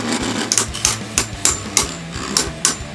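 Beyblade Burst tops, including Driger Slash, clash in a battle stadium: a run of sharp, close metallic-plastic knocks at a quick, uneven rhythm, about eight distinct hits over a steady whirring hum.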